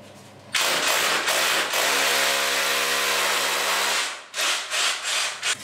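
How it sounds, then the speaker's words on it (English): An SDS hammer drill in hammer action mode runs loud and steady into brick for several seconds with a harsh rattling buzz, then breaks into a few short pulses as it stops and starts. "And now I can switch the hammer action on."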